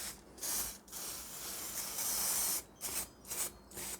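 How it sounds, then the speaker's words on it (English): Several hissing bursts from a spray bottle over a painted model grass area, one long spray followed by a few short quick squirts, close and clear. "So I'll give it a go over with the spray."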